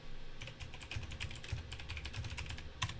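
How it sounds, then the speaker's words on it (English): Rapid, uneven clicking of keys on a computer keyboard during a live trading stream, close and steady for about three seconds with no talking over it. "And I gotta go type that."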